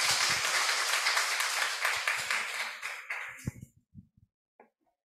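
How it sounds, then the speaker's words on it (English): Audience applause for a guest lecturer at a radiology lecture event starts as steady clapping, then thins out around the midpoint into a few scattered claps before fading to near silence. "Please give some applause."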